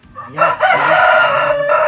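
A rare, endangered chicken breed with green plumage crows loudly up close, one long cock-a-doodle-doo held for nearly two seconds with no other sound.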